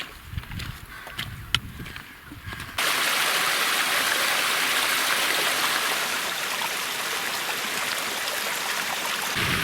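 Small mountain waterfall in the Haut Giffre, a loud steady rushing of water that starts abruptly after a few seconds of quieter outdoor sound and continues unbroken.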